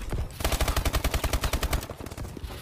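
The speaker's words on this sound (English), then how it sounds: "I shoot him using the whole mag, man." Automatic gunfire in Call of Duty Advanced Warfare multiplayer, a loud rapid burst of about fifteen evenly spaced shots lasting over a second, then tapering off into quieter game noise.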